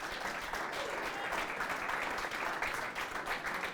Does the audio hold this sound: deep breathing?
no